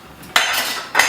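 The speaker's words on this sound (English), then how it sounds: "run a spatula around the edge to make sure it's ready to come out" A metal spatula scrapes around the rim of a frittata pan in two short bursts, a near scraping clatter with a brief pause between strokes and no talking.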